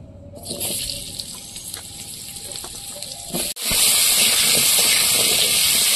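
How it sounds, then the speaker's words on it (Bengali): Pumpkin pieces fry in oil in a wok with a steady close hiss and faint clinks. After a brief break, the hiss surges louder and fuller and stays that way to the end. "এখন এক এক করে সবজিগুলো আমি ভেজে নেব। তো প্রথমে ভেজে নেব কুমড়ো।"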